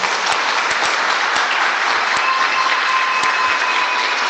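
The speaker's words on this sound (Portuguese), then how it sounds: "Vamos aplaudir a palavra do Senhor." Congregation at a Portuguese-language church service applauding the preached word, a loud, even wash of many hands clapping continuously, with a few sharper individual claps standing out near the microphone.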